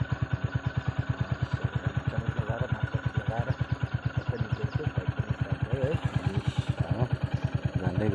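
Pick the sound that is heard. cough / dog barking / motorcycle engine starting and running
motorcycle engine starting and running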